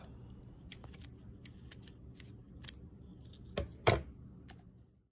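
Scissors snip through ribbon in a quiet room, a series of sharp close clicks and cuts spread irregularly, the loudest near the end, with no talk.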